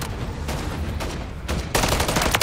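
Rapid gunfire from Call of Duty Modern Warfare III Zombies, with dense bursts of shots ringing out continuously and growing louder and fuller toward the end as zombies are fought.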